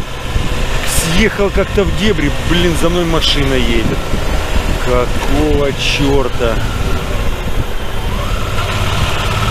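Car engine droning steadily behind a Suzuki V-Strom DL 650 motorcycle on a dirt back road in Turkey, a continuous close rumble with shifting tonal whine, while someone speaks over it.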